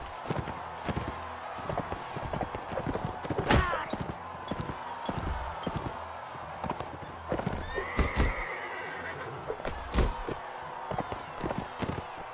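In the video game Mount & Blade: Warband, horse hooves clip-clop in a quick, uneven rhythm, with several sharp whinnies and neighs, a few loud impact thuds and continuous background game noise.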